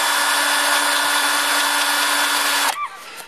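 A cordless power drill runs with a steady, loud high whine for nearly three seconds close by, then abruptly stops and winds down briefly.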